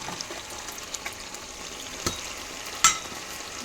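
Curry leaves, coriander and masala being stirred in a frying pan: a quiet, steady sizzle with a few soft spoon taps and one sharper clink near the end.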